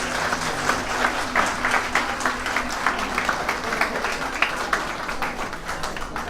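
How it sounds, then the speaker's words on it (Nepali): Dense, steady applause from a gathered congregation at a Christian wedding ceremony, many hands clapping evenly throughout at moderate distance. "फेरि पनि हामी ताली बजाउनेछौँ"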